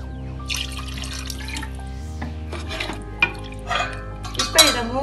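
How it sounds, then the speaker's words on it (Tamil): Water poured into a pan of chicken for a pepper chicken curry, a steady liquid splash and trickle with pan clinks and stirring, close and moderately loud, no talking. "சிக்கன் முழுகிற அளவுக்கு நம்ம தண்ணி ஊற்றிக்கலாம்"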